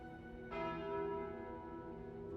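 A relic bell in Slay the Spire rings out with one clear, sustained chime that starts sharply and then hangs and slowly fades over a low background of game music.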